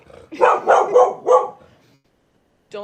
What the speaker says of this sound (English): why does your dog keep barking